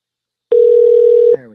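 A single steady telephone dial tone sounds loud and close for under a second, then breaks off into a brief falling electronic tone.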